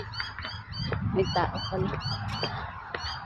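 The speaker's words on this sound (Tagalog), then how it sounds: "Ang ingay ng ibon guys." Birds calling noisily outdoors in the morning: repeated honking, goose-like cries in quick bursts throughout, close and loud, mixed with a person talking over them.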